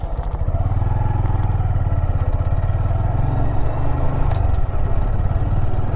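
Motorcycle engine running steadily close by as the rider rev-matches while shifting into second gear, a continuous loud low rumble with light mechanical clatter and a brief dip near the end.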